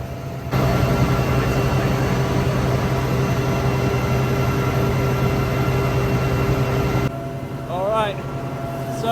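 Heard from inside the cabin, a Sea King helicopter in flight gives a loud, constant droning roar with a steady whine, which cuts away abruptly near the end before a brief voice is heard.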